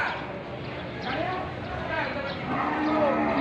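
Water buffalo low nearby at a livestock sale, mixed with a busy outdoor crowd of voices and background commotion throughout.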